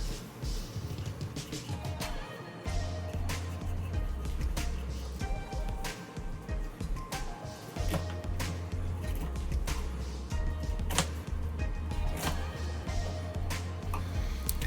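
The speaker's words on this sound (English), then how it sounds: "this is the way that I cut my apples. I use a paring knife" A paring knife cutting apples into quarters, with repeated sharp crisp cuts and taps on a board in an irregular rhythm, close and fairly clear over a low background hum.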